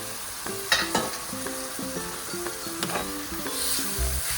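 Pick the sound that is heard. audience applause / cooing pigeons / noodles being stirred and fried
noodles being stirred and fried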